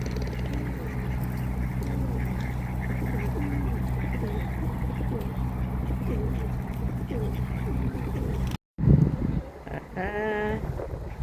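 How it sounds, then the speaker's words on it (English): Ducks quack by a riverside as they are fed, with several calls rising near the end over a steady outdoor rumble and possible wind, heard mostly without talk. "we are feeding the ducks"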